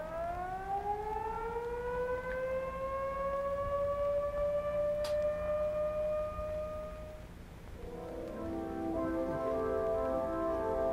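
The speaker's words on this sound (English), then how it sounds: "Here's what your alert signal will sound like." A civil defense alert signal siren wails in a long steady rising tone that holds for several seconds, then shifts into a second overlapping siren pattern, loud and alone with no talking.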